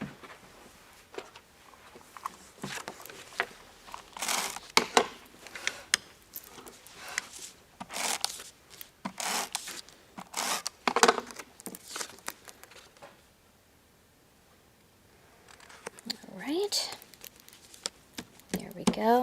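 Tape pulled and torn off a roll while mounting a stencil onto black cardstock, a run of close crinkling rips and tears in short bursts, with soft handling noises and a pause partway through.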